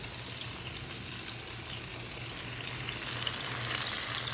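Running water streams over a dusty kitchen item as it is rinsed, a steady soft hiss that grows slightly louder toward the end, with no one speaking.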